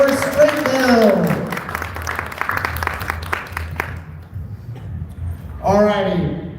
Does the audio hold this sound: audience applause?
yes